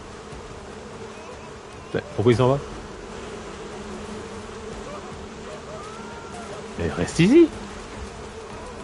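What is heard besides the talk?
bees buzzing in the video game Crimson Desert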